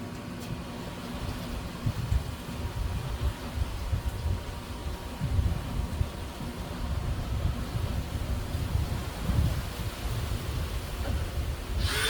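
Hard wind blowing outdoors makes a steady, low, rumbling wash with irregular buffeting at close range, continuous and without voices.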